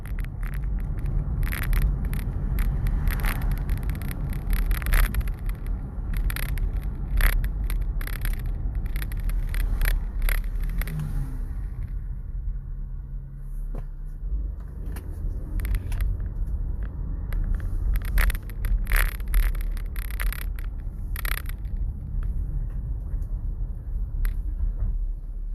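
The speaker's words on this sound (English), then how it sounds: "Oh, and I have the Durango behind me." A Dodge Durango driving behind on the road: steady low engine and tire rumble throughout, with intermittent scrapes and clunks as the vehicle moves, no talking.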